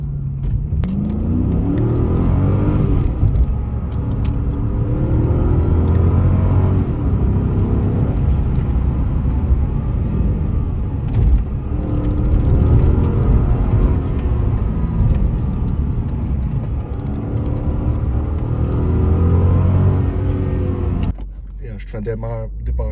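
Engine of a Mercedes E500 W211 making a standing start, loud deep rumble rising and falling through repeated revving surges for about twenty seconds, then dropping off abruptly near the end.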